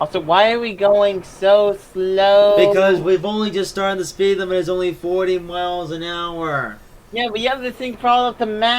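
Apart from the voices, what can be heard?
No distinct noise like a dog, phone or traffic.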